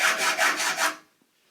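A hacksaw cuts off excess bolt ends on a wooden storage rack for 55-gallon water drums, four quick rasping back-and-forth strokes in a steady rhythm, then silence.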